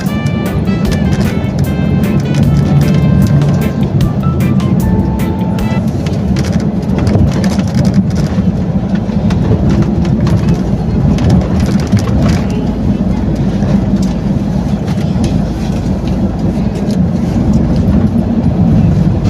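Steady rain drumming on a car while driving on a wet, slippery road, with constant road and engine rumble underneath and no one speaking.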